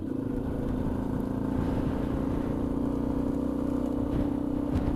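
A motorcycle rides along a road in Morocco, its engine giving a steady low droning rumble mixed with wind noise, held close and constant for the whole stretch without any talking.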